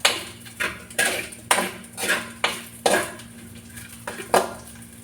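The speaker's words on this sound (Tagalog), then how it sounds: "Gino-golden brown ko muna yung sahog na pork bago ko ilagay yung luya." Pork fries in its own rendered fat in a pan, with a spatula clanking and scraping the metal in a steady rhythm of about ten sharp strokes over a faint sizzle.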